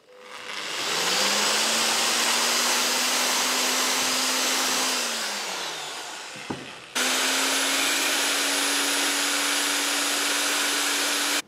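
An angle grinder widening holes in steel anti-roll bar brackets from an MR2, a loud, steady high whine that sags as the disc bites, cuts out briefly, then starts again at full pitch, close and continuous.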